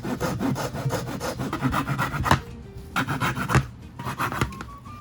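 A handsaw rasps rapidly through a wooden dowel in quick back-and-forth strokes, close up, pausing briefly before a few more strokes.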